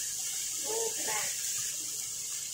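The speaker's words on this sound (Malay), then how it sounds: "aku mau kasih sedikit air" Water runs from a tap as a steady hiss while a little is added to spaghetti sauce being cooked, with a brief fuller splash near the middle and no voice.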